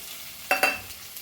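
Potatoes and garlic chives stir-fried in a pan, with a low sizzle broken by two quick scraping strokes of a spatula, then a faint clink.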